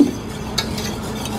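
A hot espresso tart mixture is stirred in a culinary academy kitchen before the chocolate goes in, making soft continuous scraping and light clinking of utensil against bowl, close and steady with no talk.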